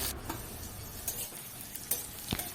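Black cumin and two dried red chillies fry in mustard oil in a kadai, a steady close sizzle broken by a few sharp scrapes and clinks of stirring, with no voices.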